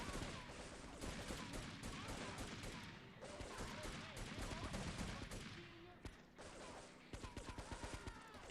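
Dense gunfire rattles nonstop in GTA 3 Definitive Edition, with overlapping rapid bursts and single shots in a chaotic firefight mixed with other game noise, loud and continuous.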